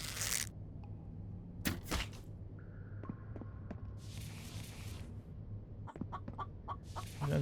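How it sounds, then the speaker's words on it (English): Chickens cluck in a video game: several short, scattered clucks and squawks over a quiet, steady background hum, with a few sharp clicks in between. "Another chicken."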